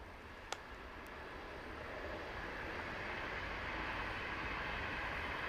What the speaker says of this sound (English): Another train, another day